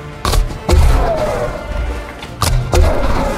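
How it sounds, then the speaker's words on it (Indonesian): Heavy thuds of German mortar fire strike in pairs, four blasts spread over a few seconds with a low rumble between them, like distant explosions. "pasukan Jerman melancarkan tembakan mortir"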